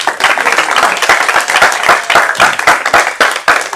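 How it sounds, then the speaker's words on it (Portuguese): Loud, close applause from a church audience, many hands clapping in a dense rapid patter with slight surges and dips in intensity, no voices standing out. "Um aplauso pela vida do Isaac."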